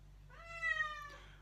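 A cat indoors meowing once, a single clear, drawn-out cry rising then falling in pitch, close and fairly quiet over a low steady background hum.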